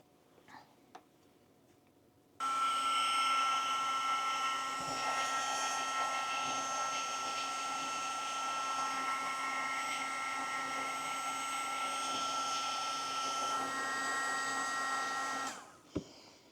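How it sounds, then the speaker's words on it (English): A heat gun dries sheets of painted paper. After a few faint clicks it switches on abruptly into a loud, steady whirring blast, runs about thirteen seconds, then cuts off. "I'm going to hit that with a heat gun"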